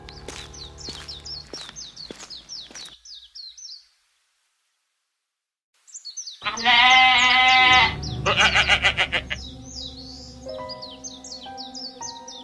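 Cartoon sheep bleat in a close, loud chorus with bird chirps, broken by a stretch of silence before a strong wavering bleat and more chirping return.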